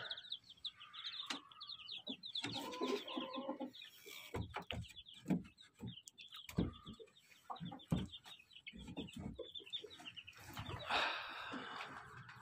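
Newly hatched chicks from a trial incubator batch cheeping in a rapid, high chorus of close, persistent peeps with scattered louder calls.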